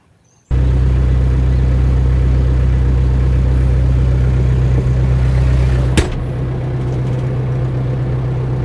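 A tractor engine runs at a steady idle in a vegetable garden, starting abruptly and holding a loud, even low rumble, with a sharp click partway through before the drone continues slightly quieter.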